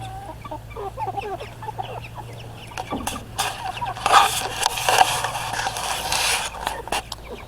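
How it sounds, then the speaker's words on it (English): Hens clucking and murmuring nearby in an irregular stream, with a steady low hum underneath and a louder burst of activity partway through. "Chickens. They're getting really friendly now."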